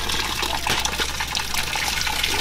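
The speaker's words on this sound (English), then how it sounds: "They use this one to sieve it or to strain like this." Liquid for jollof rice in Ghana poured and strained through a woven basket sieve, a loud, steady gushing splash of water running continuously, close up, with no talking.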